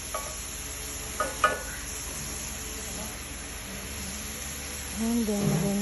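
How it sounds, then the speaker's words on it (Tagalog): Beef with cumin frying and being stirred in a pan for nachos, a steady sizzling hiss throughout with a few utensil clinks early on and a louder burst of stirring near the end. "Amoy pili-pili. Cheers. Yeah, it's amoy pili-pili pero pag siya talaga nagpapasarap."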